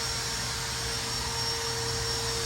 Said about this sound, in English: And I'm using the vacuum cleaner.